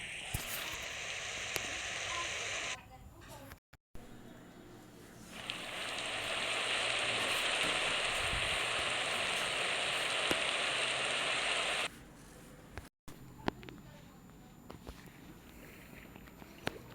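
Rain falling in the Minecraft video game: a steady, hissing patter of rainfall that runs in long unbroken stretches, broken by short pauses, with no voice over it.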